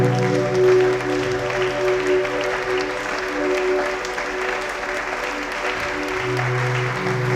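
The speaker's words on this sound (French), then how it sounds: "Une offrande d'acclamation au Saint-Esprit." Congregation applause offered as praise during a French-language worship service, sustained clapping from a crowd over held musical tones, with some voices mixed in.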